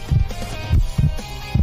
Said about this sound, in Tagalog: Tibok ng puso mo yan.